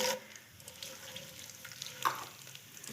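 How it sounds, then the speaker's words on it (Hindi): Whole cardamom pods and fennel seeds fry in hot oil with a soft, steady sizzle, broken by a single sharp clink near the end. "ये ज़रा हल्का सा फ्राई हो जाए, खुशबू आने लगी"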